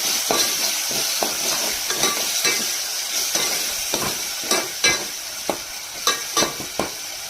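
Ground masala paste sizzling and frying in a pan for a pea gravy, with a spatula scraping and stirring in quick, repeated strokes close up.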